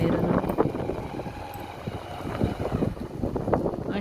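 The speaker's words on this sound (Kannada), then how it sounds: "ಹಾಗಾಗಿ ಬೈಕಲ್ಲಿ ಹೋಗ್ತಾ ಇದ್ದೀವಿ" Heavy wind noise roars over the microphone while riding a motorbike on a rural road, a continuous buffeting rush with fluctuating gusts.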